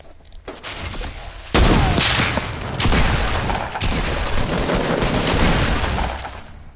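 Loud bursts of gunfire in Fortnite, with a sharp shotgun-like blast followed by a dense, sustained barrage of shots and booms that fills the whole stretch.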